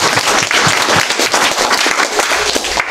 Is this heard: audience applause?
yes